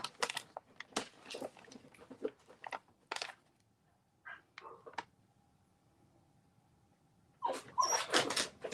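A dog whimpers indoors in short, faint, high whines amid scattered rustles and chewing-like crunches, with quiet gaps between bursts.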